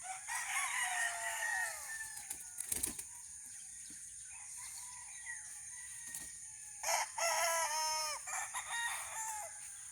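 Young gamecock stags crow repeatedly nearby in a rooster yard, their calls overlapping, with clucks and brief wing flapping against a constant high insect drone.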